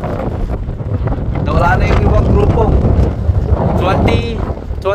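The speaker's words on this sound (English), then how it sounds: "21 miles per hour wind" Strong outdoor wind of about 21 miles per hour from the west-northwest buffets the microphone with a loud, continuous low roar that swells midway, with a voice faintly mixed in.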